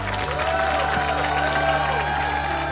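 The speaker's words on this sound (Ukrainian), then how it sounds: "Ну а ці оплески для вас" Audience applause for a water-painting performer on a Ukrainian talent show, a moderate wash of clapping and light cheering sitting under sustained music with a low tone, continuous for the whole stretch.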